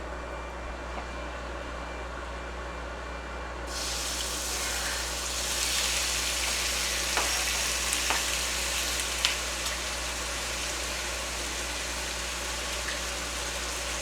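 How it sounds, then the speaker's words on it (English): Chicken for pad thai frying in a pan, a loud, steady sizzle that jumps up sharply as the meat goes in, with faint stirring clicks over continuous background hum. "I'm going to go ahead and start cooking the chicken first."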